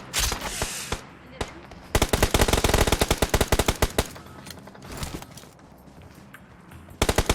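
Rapid automatic gunfire bursts from PUBG Mobile gameplay, loud rattling volleys separated by short pauses, with a brief single shot early on.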